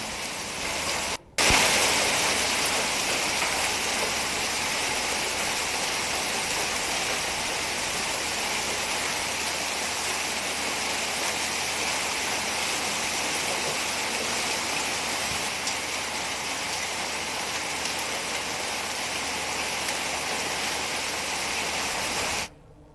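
Light rain falls under heavy clouds in Uttarakhand, a continuous, even hiss that holds steady for the whole stretch after a brief break near the start.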